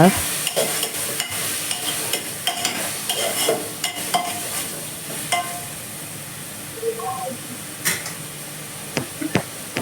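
Steady sizzling of tomatoes and onions frying in a pan, broken by repeated scraping and clinking of a spoon stirring against the metal.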